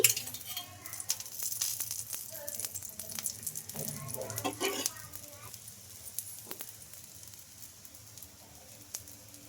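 Wheat flour rava dosa fries in oil on a hot pan with a crackling, spattering sizzle that is busiest early and then thins out, while someone talks over it.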